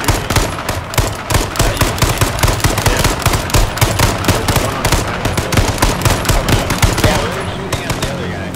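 Rapid automatic gunfire from the video game H1Z1 rattles loudly and continuously in close, fast bursts for most of the stretch, tapering off near the end.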